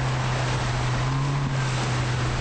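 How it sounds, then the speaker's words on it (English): Steady wind roars over choppy sea around a 470-class sailing dinghy off Weymouth, with a constant low hum and wash of water and no break in the broadband noise. "Wind is up, and the 470-class pair of Malcolm Page and Matthew Belcher cut thro"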